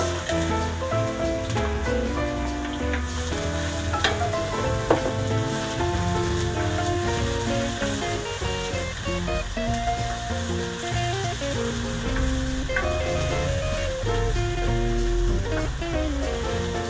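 Ginger and onion fry in a pan with a moderate, steady sizzle that runs throughout, mixed with faint scraping and a backdrop of tonal background noise.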